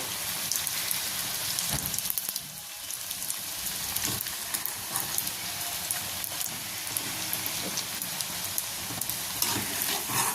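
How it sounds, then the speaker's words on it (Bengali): Masala puris deep-frying in hot oil, a dense, continuous sizzle and crackle with scattered pops, steady and close throughout with no voices. "এইভাবে আমি সব পুরিগুলোকে ভেজে নেব।"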